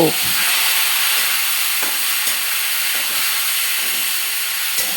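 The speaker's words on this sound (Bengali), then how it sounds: "এই চাপা মাছ তেলে দিলেই চাপা মাছগুলো গলে যাবে। একটু নেড়ে দিয়ে কচু শাকগুলো দিয়ে দিব।" Dried chepa fish and taro leaves frying in oil give off a steady, loud hiss and sizzle, with a few faint stirring knocks and no speech.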